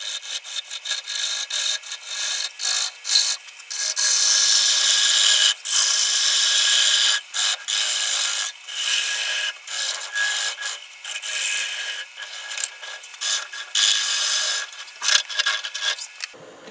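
Lathe gouge cutting a rough bowl from very wet poplar, a continuous bright hissing, shaving scrape that rises and falls in short pulses with brief gaps, steady and close, no talk.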